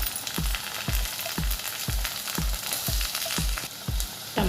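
Onions and tomato frying in a pan for an egg and raw mango curry, a steady close sizzle with a regular rhythm of low thumps from stirring, no talk.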